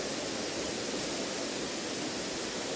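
A waterfall on a park trail in Bonito, Brazil, pours in a dense, even, broadband rush, steady and uninterrupted for the whole stretch, with no voices.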